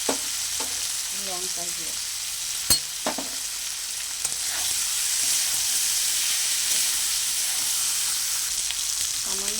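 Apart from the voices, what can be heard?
spices frying and being stirred with pumpkin and greens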